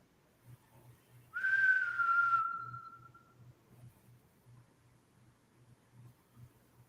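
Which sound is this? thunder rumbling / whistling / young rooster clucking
whistling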